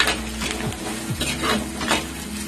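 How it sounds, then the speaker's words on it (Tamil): Tomatoes with garlic and onion being sautéed in a pan: a close sizzle under repeated scraping strokes of a spoon against the pan, in uneven rhythm, with no talking. "சேர்த்துட்டு தக்காளியை நல்லா வதக்கி விட்டுருங்க"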